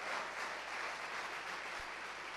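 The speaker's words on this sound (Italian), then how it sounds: "Un applauso" An audience applauds for a singer at a local event in Farindola, Abruzzo: steady, fairly distant clapping from a crowd that holds an even level throughout, with no voices on top.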